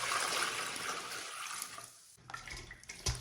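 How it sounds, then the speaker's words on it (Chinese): Water poured from a tap over pork belly in a bowl, a steady close rushing splash that thins out, followed by a few knocks and smaller splashes. "下面给它加入清水"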